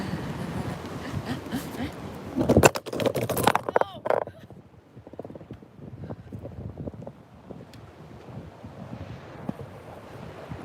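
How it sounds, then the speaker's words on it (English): Strong wind buffets the microphone outdoors in Japan, roaring loudly at first and then easing into a softer, gusty rumble. "it's too windy"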